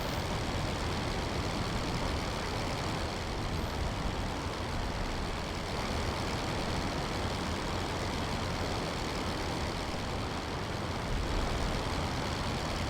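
A WWI biplane engine in the Rise of Flight combat flight game drones steadily at close range, a continuous loud low rumble that holds unbroken from start to finish with no talk over it.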